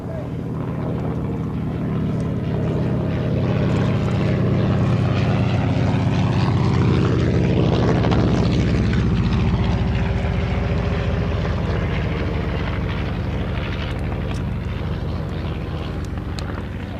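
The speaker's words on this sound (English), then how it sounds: "The mystery ship, the aircraft leading this duo, was the result of work in secret by 2 engineers from the travel air company" A Travel Air Mystery Ship propeller aircraft drones overhead at an air show, its engine note swelling and shifting in pitch as it passes close, loud and continuous throughout with faint voices underneath.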